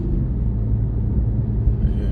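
A BMW M4 coupé's engine and exhaust give a low, steady rumble close by, fairly constant in level with no speech.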